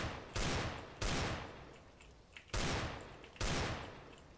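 Desert Eagle pistol shots ring out in the CS:GO video game: four loud, booming gunshots with long decaying tails, spaced unevenly and heard alone.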